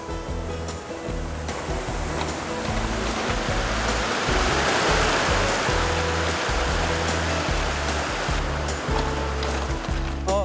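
Water flows along a stream where fish traps are being set, producing a steady, full rushing wash that stays constant throughout, with low tones running underneath.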